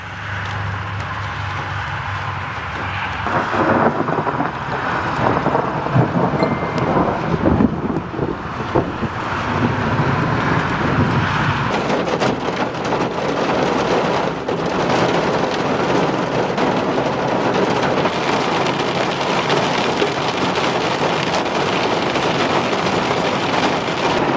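A heavy summer thunderstorm: steady rain pours down with rumbling thunder rolling through and gusts of wind buffeting nearby, loud and continuous.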